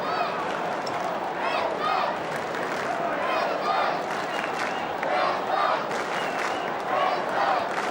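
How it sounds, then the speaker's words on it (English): A huge crowd roars and cheers at the Gabba in Brisbane during a 2001 AFL match between the Brisbane Lions and Essendon Bombers, a dense continuous wash of shouting voices with rising swells. "Huge Brisbane crowd really getting their money's worth here."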